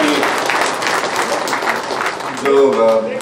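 An audience bursts into steady applause, dense clapping filling the room throughout and swelling briefly toward the end.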